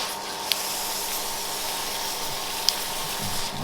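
Water hisses steadily from a retractable garden hose nozzle set to a spray pattern, a close continuous rush with two tiny clicks and no voices.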